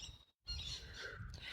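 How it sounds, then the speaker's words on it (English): Birds chirp and call faintly in the distance, a few thin high notes over quiet outdoor ambience on the Munjip Trail, a headland walk in Australia. "You can hear the birds in the background"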